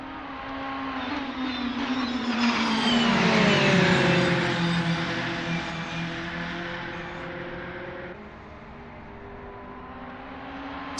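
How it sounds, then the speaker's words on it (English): A VW Scirocco Silhouette Vortex GC10 race car in Assetto Corsa at Tor Poznań roars under acceleration, its engine note climbing and swelling loudly, then easing off and steadying into a sustained drone near the end. "The roaring engines are echoing Patrick Schwanz's battle cry."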